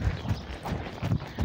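Hooves of a ridden horse clip-clop in a steady walking rhythm of dull, close thuds, with a low murmur of voice faintly beneath.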